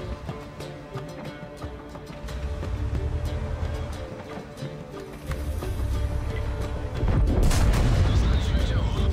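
A high-explosive anti-tank round strikes a tank in the World of Tanks video game. Loud booming impacts and gunfire sound over a rumbling battle backdrop, with a heavy blast near the end.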